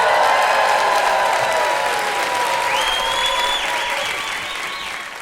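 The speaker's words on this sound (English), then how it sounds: "please make sure to cheer very loudly for Wendy Zukerman and Joel Werner" A large audience claps and cheers loudly and steadily, with whistles cutting through the roar before the sound slowly tapers off.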